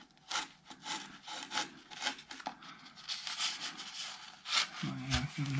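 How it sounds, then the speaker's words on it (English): A chisel scrapes and pares along wooden acoustic guitar top braces with continuous rasping, rubbing strokes close up, while a voice talks briefly over the work near the end. "I'm going to angle that chisel down a bit and get it farther down the side"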